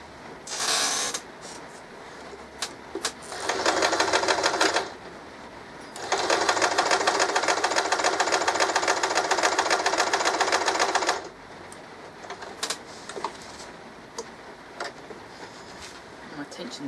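A sewing machine set to a straight stitch about 2 to 3 millimetres long sews a fabric clamp bag, running in two close, loud bursts of rapid stitching separated by short pauses, with faint handling noises between.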